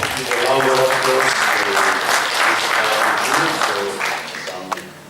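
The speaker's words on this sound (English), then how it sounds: "A round of applause" Audience applause at a conference session after a presentation, a steady, full burst of clapping from a seated crowd that tapers off near the end, with a voice faintly present underneath.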